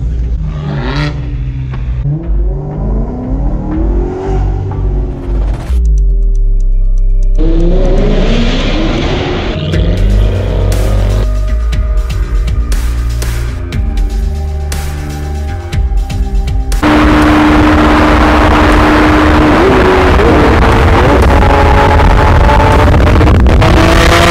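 Maserati GranTurismo and other supercars revving in a convoy, loud and close, repeated rising and falling engine sweeps and sharp throttle blips, ending in a dense sustained roar, no voices.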